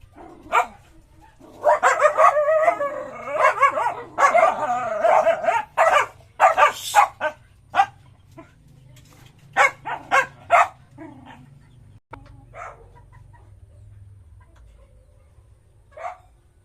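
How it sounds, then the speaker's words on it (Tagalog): A dog barks close by in a quick, loud volley of repeated woofs and yips, then lets out a few sparser barks before trailing into quiet whimpers. "Tahol dyan ha?"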